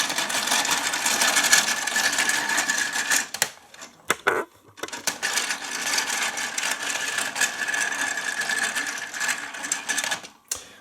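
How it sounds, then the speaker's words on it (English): A rickety elevator on a Dyna City 5-level toy parking garage playset is run, giving dense rattling, clicking mechanical chatter that stops briefly, then resumes with clacks. "It's a rickety elevator that this thing comes with"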